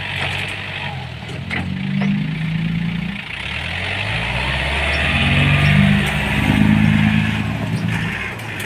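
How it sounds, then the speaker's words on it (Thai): A heavy diesel tractor engine labors and revs under load while pushing, its low growl rising and swelling over several seconds, close by with no talking. "นี่ครับรถไถดันด้วยกัดฟันด้วยครับ"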